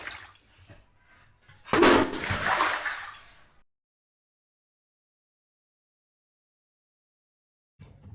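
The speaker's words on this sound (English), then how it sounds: "I'm going to tip over this big bucket of water" Big bucket of water tipped into a bath over a Lego pizza shop set: a loud rushing splash surges for under two seconds and trails off, then near silence with a brief thump at the end.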